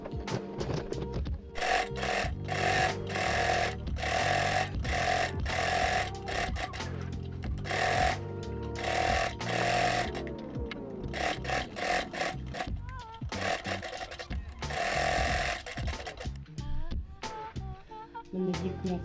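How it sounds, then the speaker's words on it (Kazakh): Sewing machine stitching the edges of two fabric layers for a reversible skullcap, loud rapid bursts of mechanical clatter starting and stopping repeatedly, close up. "жиегін қазір 1 сантиметрден тігіп алатын боламыз"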